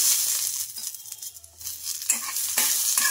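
Peanuts fry in a hot pan, crackling and sizzling up close with scraping stirs and irregular bursts of spitting oil.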